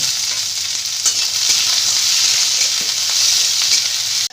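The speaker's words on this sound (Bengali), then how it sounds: "এই পেঁয়াজটাকে একটু ভেজে নেব হালকা করে ভেজে নেব তার সাথে পাঁচ ছপা রসুনও ভেজে নেব" Onion and garlic fry loudly in a pan with a dense, continuous close sizzle and light stirring scrapes throughout.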